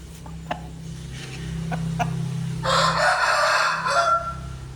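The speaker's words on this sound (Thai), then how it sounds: "ไก่" A rooster crows once, close and loud, a long drawn-out call in the second half over a steady low hum, with a few short clucks and clicks before it.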